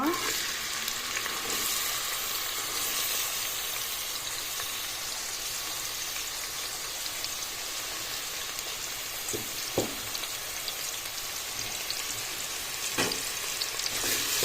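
Onions frying in hot oil for a Goan mushroom curry, a steady close crackle and sizzle that runs the whole time, with a few sharp stirring knocks near the end.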